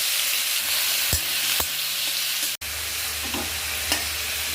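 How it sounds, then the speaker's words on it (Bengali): Prawns fry in hot mustard oil in a wok, giving a steady, close hiss with a few light knocks from a utensil and a brief cut partway through, with no talking. "আমি কড়াইয়ে সর্ষের তেল গরম করে নিয়ে চিংড়ি মাছগুলো ভেজে নিচ্ছি।"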